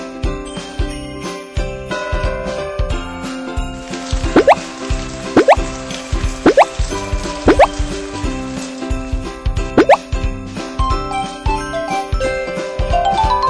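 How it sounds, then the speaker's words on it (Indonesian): Cartoon water drops plop one after another onto a Christmas tree, a series of bright bubbly plinks over a cheerful jingling musical backing. "Ayo kita siram pohon Natal itu."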